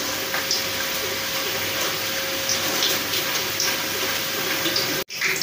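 Dal fried in hot oil for crisp sweet-shop khari dal makes a dense, steady frothy bubbling and hiss, close and full, with a brief gap near the end and no voices.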